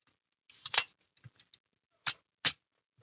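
Magazine seated into a Kodiak Defence K9 9mm pistol-caliber carbine: a few close, sharp metallic clicks and scrapes, then two distinct louder clacks a moment apart, with no talk.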